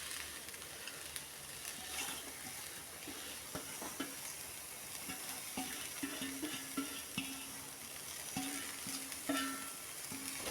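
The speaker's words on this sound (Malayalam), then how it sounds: "ചെറുതായിട്ടൊന്ന് നമുക്കിതൊന്ന് ഇളക്കി വെച്ച് കൊടുക്കാം" Ivy gourd leaves stirred in a frying pan over a quiet, even sizzle, with soft irregular scrapes and taps of the spoon throughout and no one speaking.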